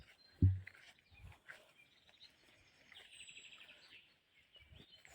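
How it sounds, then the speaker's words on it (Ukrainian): Birds sing in a forest, faint chirps and tweets drifting in and out at a distance, with a sustained brighter call in the middle and occasional soft rustles and bumps nearby. "Пташки співають, красота."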